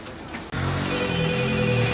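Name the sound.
telephone ringing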